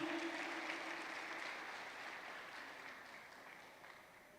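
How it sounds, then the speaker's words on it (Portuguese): A church congregation applauds during a Portuguese-language sermon, a faint, distant, steady wash of clapping that slowly fades, with a brief voice early on. "Pode aplaudir bem forte, porque é para Jesus."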